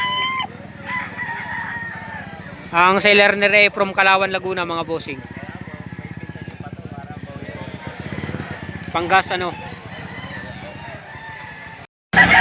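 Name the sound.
roosters crowing at Lipa livestock chicken auction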